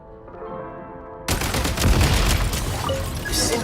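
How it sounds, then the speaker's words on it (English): Gunfire and explosive blasts in Genshin Impact as explosives are shot and detonated to clear a blocked path; a tonal music passage cuts abruptly into a loud, dense burst of booms and crackling shots that rumbles on to the end. "Shoot the explosives to detonate them and clear the path."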